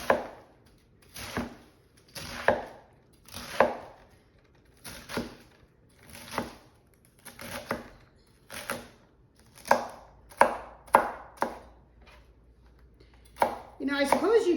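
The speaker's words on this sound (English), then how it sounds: "I'm gonna cut it in one direction. And then I'm gonna cut it in the other direction." A knife chops through cabbage on a cutting board in a run of about a dozen crisp, separate strokes, each a sharp thunk with a short crunchy tail. The strokes come close and evenly spaced, then speed up into a quick flurry near the end.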